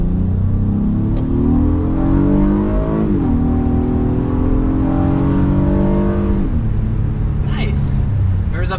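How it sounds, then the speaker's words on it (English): A refreshed 2022 Honda Passport TrailSport mid-size SUV accelerates hard to 60 mph, its engine note climbing through several gear shifts in a loud, continuous rising drone heard from inside the cabin. "Up to 60 miles an hour in the refreshed 2022 Honda Passport TrailSport."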